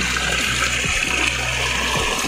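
Rainwater gushes through a breach cut into a farm field after continuous rain, a loud, steady rushing flow with faint low pulses beneath, heard alone without any talk.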